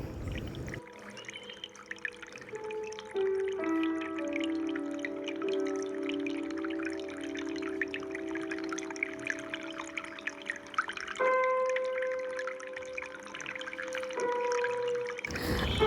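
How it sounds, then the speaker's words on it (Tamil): Water poured steadily into a pan of mutton lung gravy, a continuous close trickle and splash running for most of the stretch with no talk over it. "ஸோ இப்போ உங்களுக்கு தேவையான அளவுக்கு தண்ணி ஊற்றிக்கோங்க."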